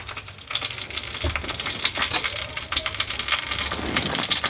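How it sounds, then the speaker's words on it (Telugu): Whole cumin, mustard seeds and dried red chillies tempering in hot ghee for a cucumber dal give a dense, steady sizzle with scattered crackles, close and fairly loud, heard alone with no talk. "నెయ్యి వేసి పోపు వేసుకోండి, బాగుంటుంది."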